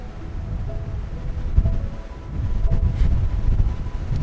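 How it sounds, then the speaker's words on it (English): Steady gusting wind buffets the microphone at an open hilltop overlook, a rough low rumble swelling and easing with no voices. "I do wish it was a little bit less windy"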